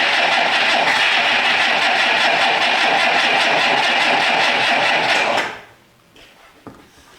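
The engine of a 1962 AMC Rambler cranks and churns steadily and loudly for about five seconds, then cuts off abruptly into near silence with a couple of faint clicks.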